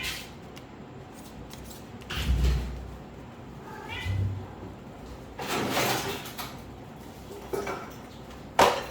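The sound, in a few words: cat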